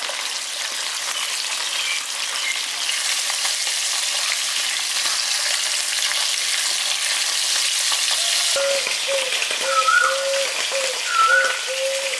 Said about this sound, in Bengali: মাছগুলো বেশি লালচে করে ভাজবো না, হালকা করে একটু ভেজে নেবো এপিট ওপিটটা